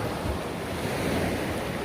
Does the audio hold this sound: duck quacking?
no